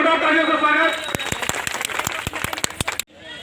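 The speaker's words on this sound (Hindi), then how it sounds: "जोरदार तालियों से स्वागत।" At a Nari Shakti Bandhan campaign gathering, a voice is followed by a short burst of scattered, sharp claps from a small group, about a dozen distinct hits that stop abruptly.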